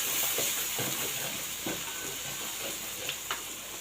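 Chili, coriander and turmeric powders with ginger and garlic sizzle steadily in hot oil, a continuous close frying hiss with faint stirring scrapes throughout.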